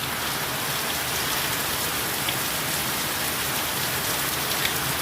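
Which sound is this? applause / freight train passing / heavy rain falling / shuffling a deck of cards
heavy rain falling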